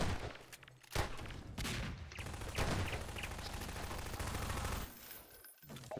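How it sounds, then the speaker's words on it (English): Rapid gunfire bursts from a Quake deathmatch on the map dm_losthope, a dense run of loud weapon blasts with a few sharper hits, then a brief dip near the end before the shooting picks back up. "Four shotguns in a row."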